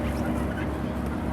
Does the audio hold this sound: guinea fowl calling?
yes